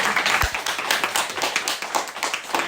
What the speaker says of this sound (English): Rabbi Bernath deserves, my God, more than a round of applause